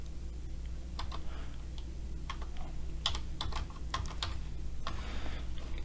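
Someone types on a computer keyboard, short bursts of soft clicking keystrokes at an irregular pace, close and quiet over a low steady hum, with no talking.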